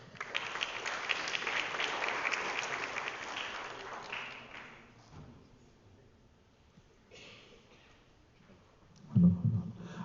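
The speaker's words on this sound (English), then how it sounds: "Please give her another round of applause." An audience at a Vasant Panchami stage event breaks into applause, loud clapping for about four seconds that thins out and fades, followed by faint room sounds and a brief low thump near the end.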